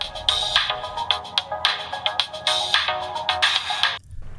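A ringtone melody plays through the small speaker of a DT8 Ultra smartwatch, a bright repeating electronic tune of quick plucked notes in steady rhythm, fairly loud and close, then cutting off abruptly near the end.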